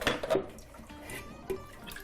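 Water briefly splashed and dribbled onto a salad in a home kitchen before spinning it dry, giving a few short, close, soft wet splashes and drips.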